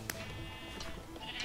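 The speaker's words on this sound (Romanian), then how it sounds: "Avem prea multe oi." Sheep bleat in Minecraft, one short bleat near the start and more toward the end, over a steady game background with no talking.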